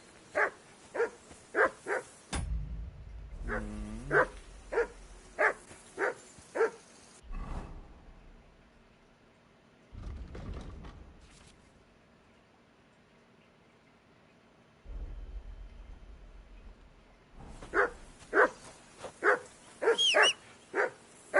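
A dog barks in the video game Kingdom Come Deliverance 2, loud close bursts of rhythmic barking at the start and end with whimpering and quieter gaps between.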